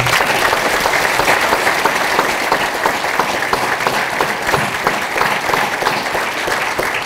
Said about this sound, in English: How about a round of applause for your family?